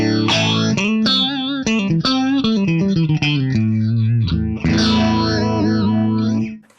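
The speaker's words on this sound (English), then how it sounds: "Everyone's favorite orange phaser pedal." Distorted electric guitar played through the Guitar Rig 6 Phaser 9 effect, modeled on an orange phaser pedal, with sweeping, wobbly phasing over a melodic phrase and chords that end in a fading ring, no talking.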